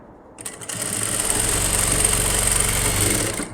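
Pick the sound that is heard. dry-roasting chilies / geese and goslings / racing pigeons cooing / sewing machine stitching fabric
sewing machine stitching fabric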